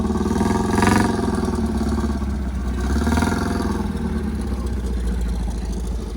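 Close by, a classic car engine runs with a steady, lumpy idle and mechanical clatter, swelling twice in brief revs before settling back to a constant rumble.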